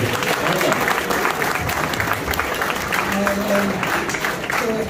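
Audience applause at a Pakistani cricket legends interview, a steady wash of clapping with voices murmuring underneath throughout.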